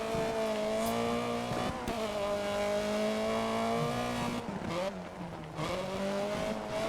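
An Opel rally car's engine in the video game DiRT 3 drones and revs with shifting pitch, gear changes and brief tire noise, loud and continuous.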